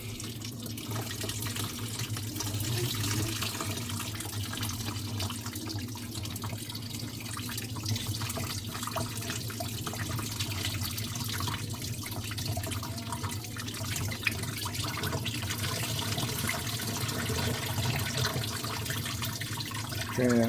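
Water runs steadily from a kitchen sink drain line being emptied slowly after a blockage, a continuous moderate rushing and trickling flow that holds for the whole stretch with no voices.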